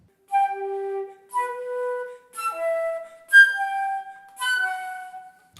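A wind instrument plays a series of sustained notes alone, the low notes sagging slightly flat as the airstream drops off, with brief gaps between phrases.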